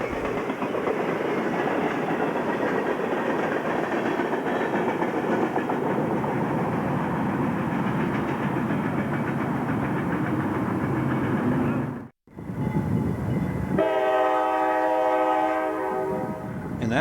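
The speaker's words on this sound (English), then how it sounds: "Conrail with CSX power slowly moves a mixed train through town." A Conrail mixed freight train hauled by CSX locomotives rolls slowly through Ashland, Massachusetts, with a steady loud rumble and clatter of cars, a brief dropout, then a sustained multi-tone horn blast near the end.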